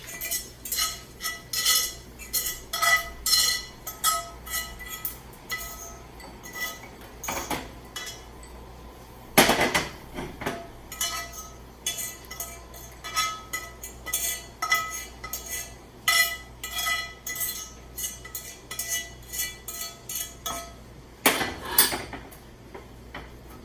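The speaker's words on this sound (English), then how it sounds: "So what we want to do now is transfer the bacon out of this pan into a small dish." Metal utensils clink and scrape against a frying pan and a small dish as cooked bacon is moved across for a quiche Lorraine, in irregular bursts of light taps with a few sharper knocks.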